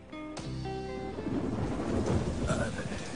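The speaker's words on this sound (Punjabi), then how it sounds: "ਓਏ ਬਾਰਿਸ਼ ਆ ਕੇ" Sharp crack of thunder opens into a deep rolling rumble, followed by steady rain hiss that builds and keeps pouring over the rest of the stretch, fairly quiet and distant overall.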